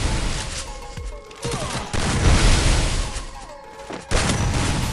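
Rapid UMP submachine gun fire in the Free Fire mobile game, dense bursts of shots with booming impacts that keep going nearly nonstop, loud and close.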